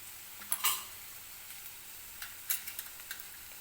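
Turmeric and dry spices drop into a hot pan with a bhaji paste, giving a faint, soft sizzle close by, marked by a few light spoon clinks against the pan.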